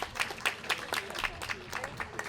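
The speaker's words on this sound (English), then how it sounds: "Round of applause to our flag raisers." Scattered applause from a small crowd at an outdoor Pride flag raising ceremony, sparse individual claps in an uneven rhythm, fairly quiet and close, with some voices murmuring underneath.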